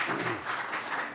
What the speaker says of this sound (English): So give them a round of applause for coming